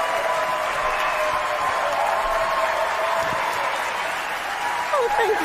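A round of applause during a live online trivia quiz night, dense continuous clapping at an even level with some voices and tonal sounds mixed underneath.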